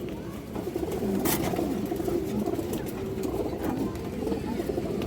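Female pigeons of an old racing line at a loft coo in soft, low, repeated murmurs over a steady background hum, with a brief brighter burst of noise near the start.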